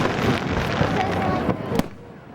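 Fireworks in New England crackle and pop in a dense, continuous burst, with a sharper bang near the end before it fades out.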